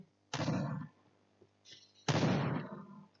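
Two loud, sharp sniper rifle shots in the video game Point Blank, about two seconds apart, each with a booming tail, plus a fainter shot between them.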